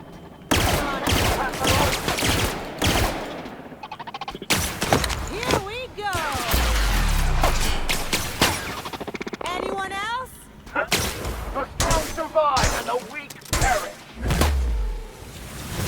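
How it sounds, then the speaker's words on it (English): Gunfire in The Outer Worlds: loud bursts of shots and sharp cracks come in clusters with brief pauses, mixed with impacts and game effects, while a voice talks over parts of the fight. "I would just shoot my way in."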